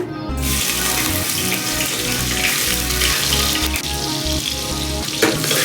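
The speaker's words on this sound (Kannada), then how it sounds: "ನಾನಿಲ್ಲಿ ಸ್ವಲ್ಪ ಈರುಳ್ಳಿ ಇಟ್ಕೊಂಡಿದ್ದೀನಿ ಇದನ್ನು ಹಾಕೋತಾ ಇದ್ದೀನಿ ಎಣ್ಣೆ ಕಾದಿದೆ" Onions hit hot oil in a pressure cooker with a loud, steady sizzle and crackle that carries through the whole stretch with no talking, made while cooking a field bean sambar.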